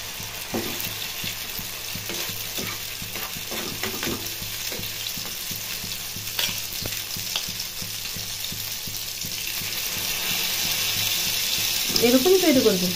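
Marinated food frying in hot mustard oil in a frying pan, a steady crackling sizzle with scattered clinks and stirring, rising slightly louder toward the end, with a faint voice near the close.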